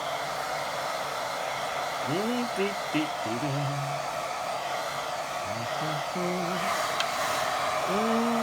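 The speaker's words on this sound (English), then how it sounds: "Got it on gentle so it don't push that paint everywhere. I'm just drying it gently." A hair dryer on a gentle setting drying watercolour paint produces a steady, even whoosh of airflow that runs continuously, with a voice speaking over it at times.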